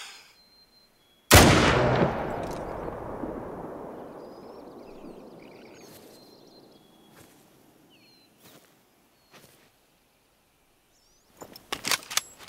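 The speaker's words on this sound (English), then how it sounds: "this is going to be a good old iron sight shot" A single loud rifle shot fired with iron sights in the hunting game The Hunter Call of the Wild, a sharp crack followed by a long rolling echo that fades over several seconds, then faint clicks and rustles.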